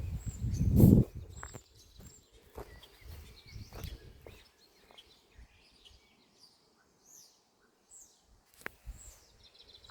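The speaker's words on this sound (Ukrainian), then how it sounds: "Якісь такі птахи співають цікаві." Birds sing in a garden, faint and distant, with scattered short chirps and trills after a few seconds of nearby rustling and footsteps.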